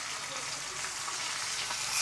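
Tilapia fries in hot oil in a pan over a burner, a continuous dense crackling sizzle held steady and close with no speech.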